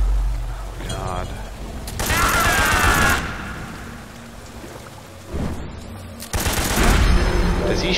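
Enemy gunfire in Metal Gear Solid 3 crackles in broad bursts, with two loud stretches of shots separated by a quieter lull, sounding fairly close.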